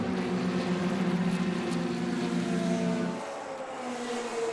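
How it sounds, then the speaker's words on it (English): Vintage race cars at Virginia International Raceway rumble past with a low, steady engine drone that drops off abruptly partway through, leaving a quieter background engine hum. "I love the low rumble of these cars, really beautiful sounding."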